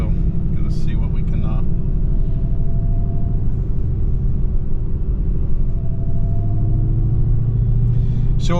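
A Dodge Demon 170 drag car idles with a loud, deep engine rumble that holds steady and close, with brief mechanical clicks near the start and the end.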